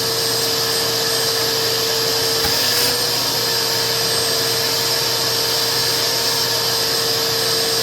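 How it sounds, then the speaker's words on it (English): A vacuum cleaner runs steadily and loudly while cleaning out a very dirty Yamaha home theater receiver, a constant whining drone with a brief bump in the middle and no talking. "I'll flip the vacuum around and use it to blow air through outside"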